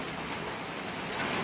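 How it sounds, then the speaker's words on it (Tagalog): Heavy early-morning rain falling steadily in the Philippines, a continuous broadband hiss that stays even and close throughout with no voices. "Grabe nga ulan ito."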